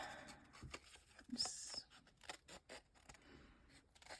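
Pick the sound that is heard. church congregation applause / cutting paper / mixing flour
cutting paper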